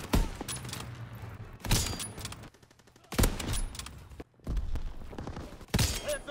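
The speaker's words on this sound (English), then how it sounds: "Enemy strafing run in back." An enemy strafing run in the World War II shooter Call of Duty WW2 brings several loud bursts of rapid gunfire, broken by short lulls, over the rumble of battle.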